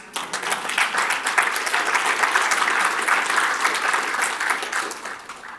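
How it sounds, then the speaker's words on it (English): A church audience breaks into enthusiastic hand clapping that swells quickly, holds as a dense crowd applause for several seconds, then begins to thin, with no voices over it. "Anybody want to give Jesus a hand clap for that?"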